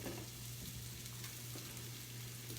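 Onions frying in a pan for black paella, a steady soft sizzle with a faint low hum underneath, constant throughout.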